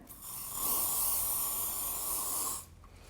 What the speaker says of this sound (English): spray the hair with a little bit of flexible hold hairspray